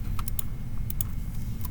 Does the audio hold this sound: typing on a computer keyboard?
yes